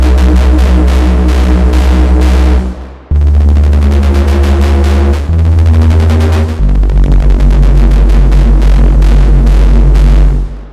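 A Bristol-style synth bass preset named Growl plays a loud, thick, throbbing bass line in long sustained notes with a fast pulsing wobble, changing pitch every few seconds with a short break near the start.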